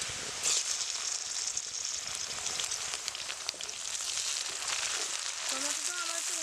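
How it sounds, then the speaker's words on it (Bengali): Chopped tomatoes frying with onions in oil for a Bengali bata fish curry, a steady moderate hiss and sizzle with light stirring throughout. "এতে দিয়ে দিচ্ছি টমেটো কুচি"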